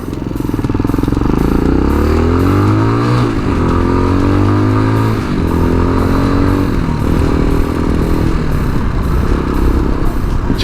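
Tao Tao TBR7 motorcycle engine running steadily during a ride, loud and close, with rising and falling revs and gear changes, a droning tone throughout and no talking.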